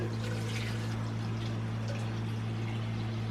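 Leftover water poured into a home-brew beer vessel, a continuous trickling pour over a steady low mains-like hum, faint and even throughout.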